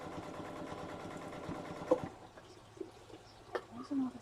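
A sewing machine runs a fast rhythmic stitch across a quilt for about two seconds, then stops. Soft handling noises and quiet voices follow.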